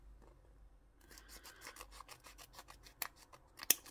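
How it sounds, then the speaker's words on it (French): Scissors snip through the end of a plastic toy package during an unboxing, a rapid run of crisp rasping cuts after a second of quiet, ending in a sharp final clip; no voices. "il faut que je coupe le bout"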